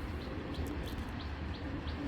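A saddle huma pigeon wearing a leg ring coos softly in a repeated, evenly spaced rhythm against a steady low background hum.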